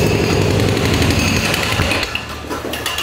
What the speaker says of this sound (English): There's some construction going on behind me and jackhammer happening.